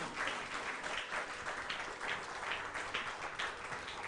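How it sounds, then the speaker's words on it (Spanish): Congregation applause fills a church worship service in Bonaire, a steady, dense wash of many hands clapping without pause for about four seconds. "Un aplauso al Señor."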